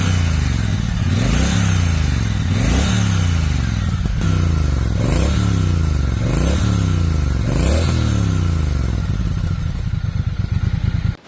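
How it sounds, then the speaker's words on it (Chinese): A Brixton Cromwell 1200 X motorcycle engine runs up close, revving repeatedly in a regular rise-and-fall pattern, about every one to two seconds, before cutting off. "而且感觉穿越版的发动机要更加活跃一些，运行起来也更加细腻"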